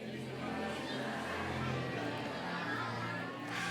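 Church congregation members greeting one another during a Christmas service, a steady indoor hubbub of many overlapping voices and chatter without clear individual speech.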